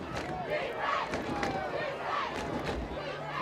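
Spectators murmur and call out in the stands at a high school football playoff semifinal between Diman and Mashpee, a broad, steady crowd hubbub with scattered shouts at moderate distance.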